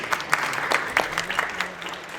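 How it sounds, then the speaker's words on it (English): Audience applause at an annual friendship dinner at the Pennsylvania State Capitol, a crowd clapping as a speaker comes to the podium, with a few louder individual claps standing out near the listener over a steady background patter. "Please welcome her to the podium and another round of applause."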